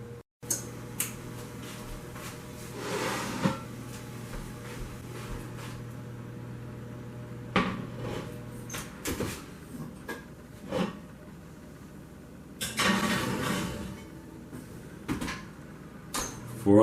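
Kitchen oven door and cupboards opening and closing as bread dough goes into a 400-degree oven, a handful of soft thuds and clunks spread out over a steady low hum, fairly faint.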